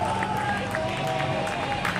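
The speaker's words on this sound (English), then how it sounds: "Listen to the crowd." A crowd in the street below cheers a man climbing up the outside of a building in Mali, a steady babble of shouting voices and scattered clapping at close to moderate distance.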